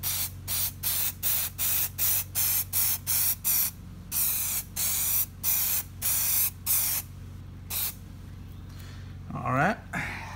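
Plasti Dip sprayed on a Mustang emblem in a rapid series of short aerosol bursts, close and evenly spaced, with a quieter hum beneath and a brief voice-like sound near the end.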